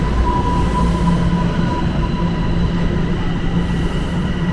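A Toronto subway train rumbles past close by with a loud, steady, unbroken roar and a faint high whine over it.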